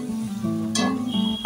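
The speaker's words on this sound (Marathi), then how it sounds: "आता ना लसणाचा कच्चा वास जाईपर्यंत आपल्याला हे परतवून घ्यायचं आहे" Crushed ginger and garlic with onion sautéing in a pan for a dhaba-style Veg Kolhapuri, a steady close sizzle with a brief clatter of stirring partway through.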